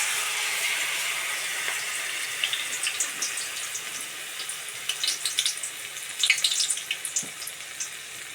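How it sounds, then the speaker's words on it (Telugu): Batter-dipped bajjis fry in hot oil, giving a steady bright hiss with scattered crackles and small pops that grow busier toward the end. "చూడండి ఫ్రెండ్స్, బజ్జీలు వేగుతున్నాయి"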